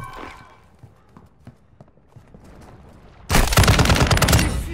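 Loud, dense burst of automatic gunfire in Call of Duty Modern Warfare II erupts abruptly after a few seconds of quieter scattered shots and thuds, continuing as a sustained rattling barrage.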